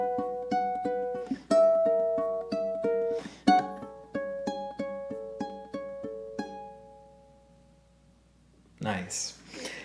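A ukulele plays two bars of a love song: a steady run of plucked, ringing notes, some layered into chords, with a pause near the end and a short burst of noise at the close.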